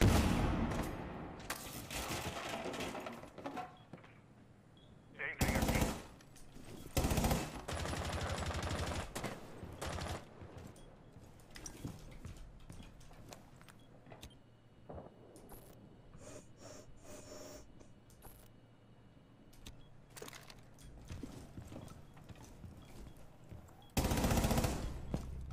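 Rainbow Six Siege weapon gunfire, rapid automatic bursts and sharp shots scattered through a quiet stretch, loud volleys near the start and end with fainter shots between.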